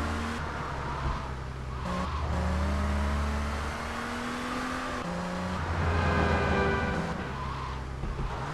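Car in Grand Theft Auto 3 driving with a droning engine that rises and falls, broken by long tire skids and squeals, loud and continuous with no talk.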